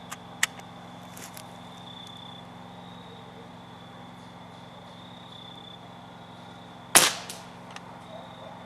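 A Benjamin 392 pump air rifle fires a single sharp crack at a steel swinging target 50 yards away, loud and close, with a faint earlier click and quiet outdoor insect hum around it.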